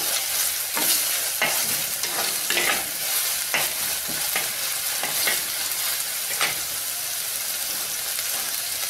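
Ginger garlic paste fries in a little oil in a pan, sizzling steadily while a spoon stirs it in repeated close scraping strokes throughout.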